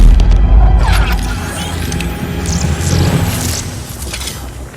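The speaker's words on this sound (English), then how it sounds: "A red solar grenade." A red solar grenade goes off in the Injustice 2 video game with a deep, loud boom, followed by rumbling debris and scattered crackling effects that slowly fade.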